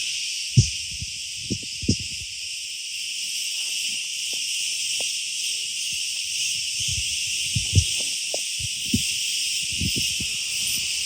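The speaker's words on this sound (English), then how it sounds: "I don't know if you can hear me with all the cicadas" Cicadas buzz steadily and loudly throughout in Crete, a dense high drone, with scattered soft knocks and rustles underneath.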